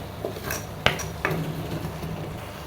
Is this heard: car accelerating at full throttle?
no